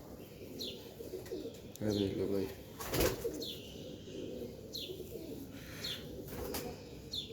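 Pigeons cooing repeatedly at close range, with bursts of wing flapping and a few chirps, while someone talks briefly over them.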